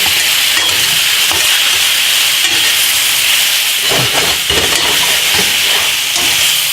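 Shiitake mushrooms and garlic sizzle hard in a pan for pork piccata, a loud continuous frying hiss, with soft scraping and clacking as they are stirred around partway through.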